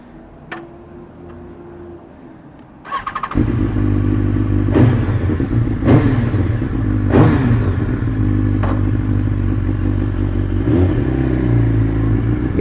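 A BMW S1000RR sport motorcycle engine fires up after a few quiet clicks and settles into a loud, close, continuous run, with several sharp blips of the throttle rising above the steady drone.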